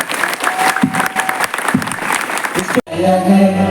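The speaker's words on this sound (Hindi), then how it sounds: "जोरदार तालियां हो जाए पर जोरदार।" Loud applause from a seminar audience at Awadh University in Ayodhya, a dense burst of clapping close and strong, then cutting off abruptly as a different sound takes over near the end.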